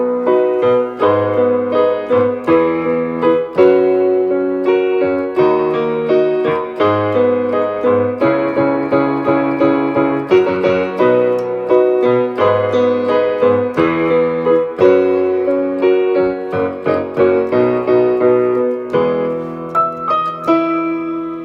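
Piano plays a song's chorus as an accompaniment, with steady rhythmic chords and a melodic line running continuously at an even, moderately loud level, no voice.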